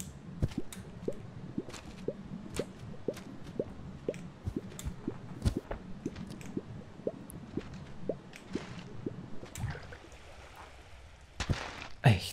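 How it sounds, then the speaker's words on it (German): A character wades into water in Human: Fall Flat, giving repeated soft squishy drips and splashes at a steady rhythm, close and moderately loud, with a sharper splash near the end. "Ich gehe einfach mal hier ins Wasser, ja?"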